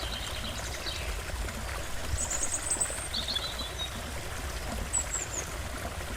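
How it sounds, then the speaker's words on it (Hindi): Water rushes and pours steadily at a distance, a soft continuous wash, with a few thin bird chirps above it. "अरे वो रहा झरना, पास जाकर देखता हूँ।"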